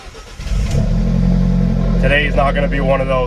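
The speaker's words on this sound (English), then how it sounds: "Now, this car is loud, and I don't know if you can hear me, but this is the Alfa Romeo 4C." An Alfa Romeo 4C engine starting up at a busy Toronto street gathering, settling into a loud, close, steady idle rumble while someone talks over it.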